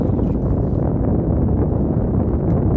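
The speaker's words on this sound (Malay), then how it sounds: "angin kuat." Strong wind buffets the microphone outdoors in a steady, loud, low roar that stays unbroken throughout, with no clear voices.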